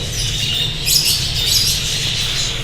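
Caged birds just separated from their mates, with the females moved into a new enclosure, give high, scratchy squawks and chirps in short overlapping bursts over a steady background hum, close by and with no talking.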